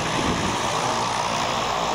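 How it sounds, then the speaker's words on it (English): A propeller airplane coming in to land near a skydiving centre, its engine a dense, steady drone heard close and loud throughout, with no voices. "So there's the plane."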